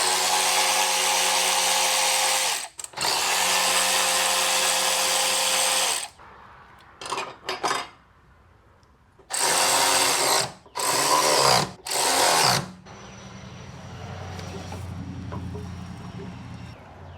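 A power tool backs bolts out during a Hellcat supercharger install on a 5.7 Dodge Charger: two long, steady whirring runs, then several short bursts, followed by a quieter, lower hum.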